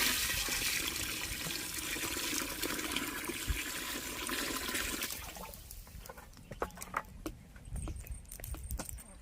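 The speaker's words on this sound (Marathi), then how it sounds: "यात आपल्याला आता गरम पाणी घालायचं आहे" Hot water gushes into a pot of mutton for a steady, rushing stretch, then gives way to scattered splashes, drips and light metallic clinks from the cooking pot.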